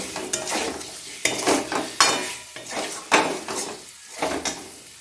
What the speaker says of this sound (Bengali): এখন করলাম ভেজে রাখা ডিম, সেদ্ধ করে ভেজে রাখা ডিম একসাথে খুব ভালো করে মিশিয়ে নেব